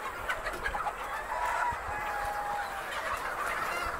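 Chickens and a rooster on a poultry farm cluck and murmur in scattered short calls, moderately close against a low background, with no one speaking.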